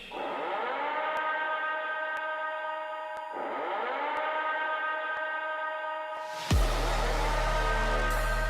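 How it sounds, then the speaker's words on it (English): Civil defense siren sounding before a concert announcement, a loud sustained wailing tone that dips and rises again, then shifts abruptly into a harsher, steady blaring tone near the end. "The death rail will commence after the sirens."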